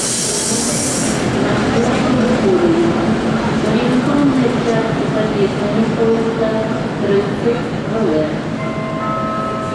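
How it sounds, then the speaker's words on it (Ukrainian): A passenger train rolls past close by, loud and sustained, with rumbling wheels, rhythmic rail clatter and high squealing tones from the wheels. "Поезд."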